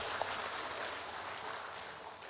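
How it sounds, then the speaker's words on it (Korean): A church audience claps after singing a worship chorus together. The applause is soft and steady, a dense wash of many hands that stays even for about two seconds. "박수 주세요."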